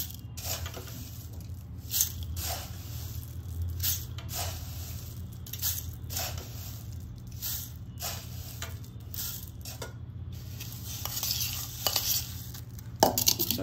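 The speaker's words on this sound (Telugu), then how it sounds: "చేయి పెట్టి కలిపాలి." Puffed rice being tossed and mixed by hand for bhelpuri, a steady close rustling and crunching stir with repeated soft bursts, louder toward the end.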